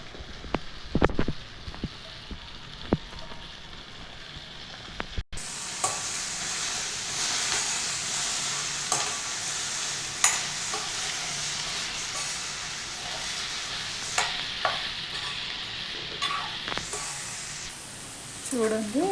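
Okra frying in a pan with curry leaves and turmeric, stirred now and then: a steady close hiss of sizzling oil runs throughout, with scattered scraping knocks of the spatula and a sharp clatter just past five seconds.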